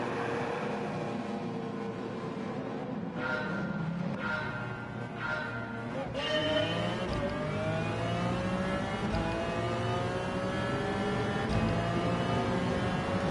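A McLaren race car engine in Gran Turismo 7 roars steadily, with rising and falling revs through gear changes, loud and close throughout, with no talking over it.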